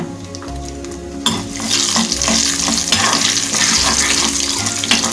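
Urad dal and chana dal drop into hot oil, and a loud, dense sizzle bursts up and holds steady, with stirring scrapes and a low steady hum beneath, close by with no talk.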